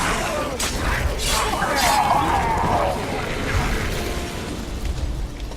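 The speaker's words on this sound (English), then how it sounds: "A magic explosion of some sort. So powerful that even the echo was dangerous." A magic explosion in The Witcher 3 video game: a loud, sustained roaring blast with shattering, crackling bursts through the middle and a rumbling tail, heard alone without speech.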